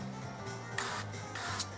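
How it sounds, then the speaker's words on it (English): Olive oil misted from a spray can onto a baked personal-size pizza crust in a home kitchen, heard as two short hissing bursts close by, each under a second, with a faint hum in the background. "give it a light spray there"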